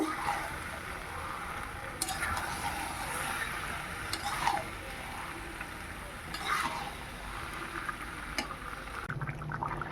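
Jackfruit and prawn curry sautéing in a pan, a soft, low sizzle with occasional scraping stirs and faint splatter, fairly quiet and close throughout.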